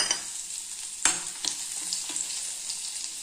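Curry leaves, chillies, crushed garlic and popped mustard seeds sauté in a pan for raw mango thokku. The sizzle is steady and close, with a few sharp crackles and stirring scrapes, and no voices.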